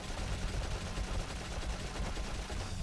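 Continuous gunfire from a gun in the video game Dark Cloud, dense and steady for a few seconds, the shots blurring into a rough constant rattle at moderate loudness.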